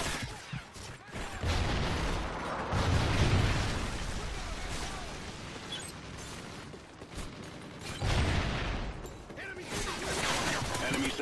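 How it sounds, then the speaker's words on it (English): A Trinity rocket strike hits in a video game: rumbling explosions and mechanical clatter, loud and sustained with bursts of impact, while a voice talks in the game. "Friendly Trinity rocket inbound."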